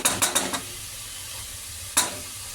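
Fenugreek leaves frying in a pan for a pulao, a soft steady sizzle broken by a quick run of four spatula scrapes and one more scrape near the end.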